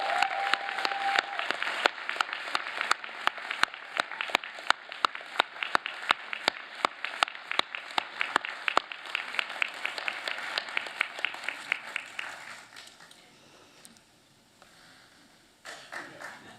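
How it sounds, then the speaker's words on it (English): A crowd applauds enthusiastically for about twelve seconds at a university graduation ceremony, dense clapping that fades out, followed by a brief final burst. "take a moment to acknowledge your supporters in another enthusiastic applause"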